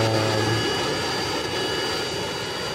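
Loud, steady video-game helicopter engine roar with a low droning hum that drops away early, leaving a continuous rushing whine.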